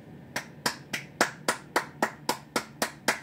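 One person claps alone at home in the early morning, about ten crisp, evenly spaced claps in a steady rhythm of roughly three per second, close and clear, with no voices.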